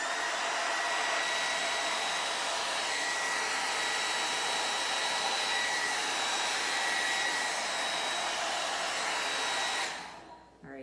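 Steady, loud blower air rushing continuously for about ten seconds, used to push white paint over colored paint in a Dutch pour, then cutting off abruptly near the end.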